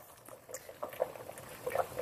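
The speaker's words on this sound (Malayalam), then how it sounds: "അപ്പോൾ സാമ്പാർ നല്ല തിളച്ച് ഇതെല്ലാം ഒന്ന് മിക്സ് ആയിട്ടുണ്ട്." Sambar, a South Indian lentil and vegetable stew, bubbles in a pot on the stove, giving soft irregular pops and blips over a low simmering hiss, close and fairly quiet.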